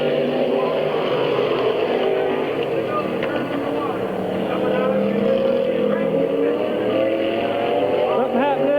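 Race cars roar around Midvale Speedway's oval in a 1997 race, a steady loud engine drone with passing cars overlapping, under a track announcer's continuous commentary.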